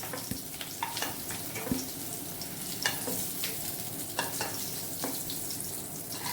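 Potatoes sizzle steadily in hot oil in a pan for an egg and potato curry, with a constant crackling hiss broken by occasional light scraping and clicking as a spatula stirs them.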